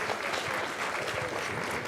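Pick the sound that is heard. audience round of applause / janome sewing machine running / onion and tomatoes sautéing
audience round of applause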